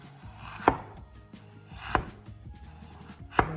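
A knife cuts the skin off a fish for Chinese braised fish with tofu, three sharp chopping knocks on a board spaced over a second apart, close and distinct with soft scraping between, no talking.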